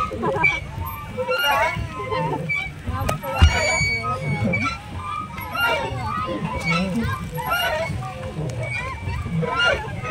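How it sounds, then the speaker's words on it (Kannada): A flock of ducks crossing a river at a nature retreat quacks and honks continuously nearby, their calls overlapping with people talking throughout. "ನೋಡಿ ಆ ಬಾತುಕೋಳಿಗಳು ರಿವರ್ ಕ್ರಾಸ್ ಮಾಡ್ಕೊಂಡು ಹೋದೋ"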